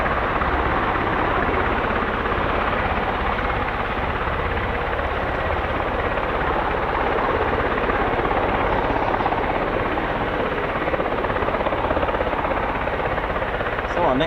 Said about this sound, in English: So our next movement will be the Osprey, departing hopefully very shortly.